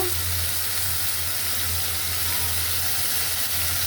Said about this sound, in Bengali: মশলাটা একটু বাজা বাজা হোক